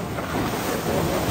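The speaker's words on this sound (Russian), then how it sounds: "здесь прям хорошие волны" Ocean waves break on a beach in Bali as a steady, close surf roar, with wind buffeting the microphone throughout.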